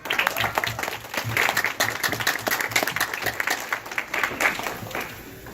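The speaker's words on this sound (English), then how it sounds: "Give a round of applause for yourself, please." A room full of people at a fundraiser applauds steadily, dense clapping holding for several seconds before easing slightly toward the end.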